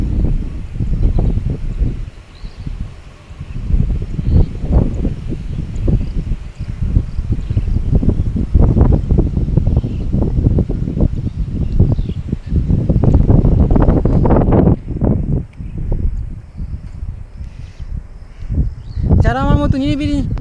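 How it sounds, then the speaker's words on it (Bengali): Strong wind in a quiet natural spot roars and buffets the microphone in loud, gusty low rumbles, with leaves rustling beneath and a brief voice-like sound near the end. "কি পরিমাণ বাতাস বইতেছে, দেখতে পারতেছেন।"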